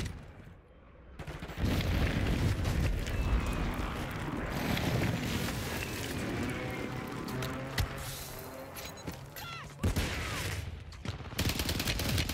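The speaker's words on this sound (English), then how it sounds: "Enemy precision airstrike." A precision airstrike in a video game sets off a long, loud barrage of rumbling explosions and crackling blasts, with brief gaps and renewed impacts throughout.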